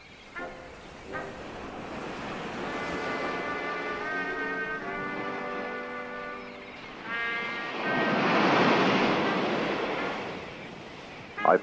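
Ocean surf rolling in where a drunk man waded into a deadly undertow, a steady wash of breaking waves swelling louder near the end, with a low horn-like tone sounding through the middle.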